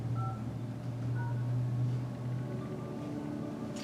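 Keypad tones from a Polycom conference phone as number keys are pressed, a few short beeping tones over a steady low hum in a quiet room.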